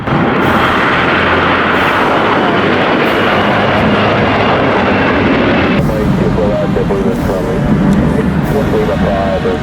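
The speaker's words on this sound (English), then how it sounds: "who brought in their rare Airbus A340 into Cleveland, Ohio earlier this year" A Qatar Amiri Airbus A340 roars at Cleveland airport, its jet engine noise a loud, steady, broadband rumble that fills the whole stretch, heard outdoors and fairly close.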